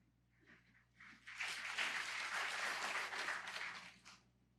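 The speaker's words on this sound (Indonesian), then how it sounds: "Tepuk tangannya itu ada iramanya loh. Kayak gelombang." Church congregation at a Sunday service claps together, rising from faint scattered claps into a fairly distant, steady wave of applause that holds for about three seconds before fading out.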